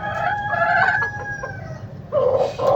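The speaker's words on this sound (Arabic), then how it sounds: "وهذا ديك الدندراوي" A Dandarawi rooster crows loudly nearby in a long cock-a-doodle-doo with a shorter crow following near the end, and faint background clucking.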